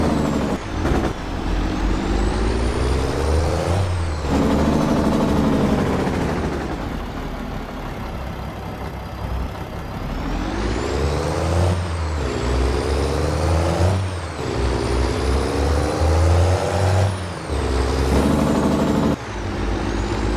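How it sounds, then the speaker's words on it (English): Box truck in Farming Simulator 22 revving and shifting through repeated engine pitch sweeps, with loud air-brake hisses between runs; steady, close and continuous, no talk. "let me park the box truck in here"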